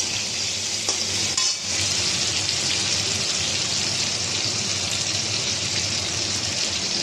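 Hog plums (amra) sautéing in a pan with oil, a steady loud sizzle and frying hiss with stirring scrapes running throughout, with a brief dip near the start.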